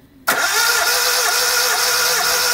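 Engine cranking over and catching into a rough, misfiring run, loud and close, with low compression in cylinder 2; the sound kicks in abruptly after a brief quiet start and holds steady.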